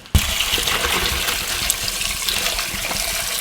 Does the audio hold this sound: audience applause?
no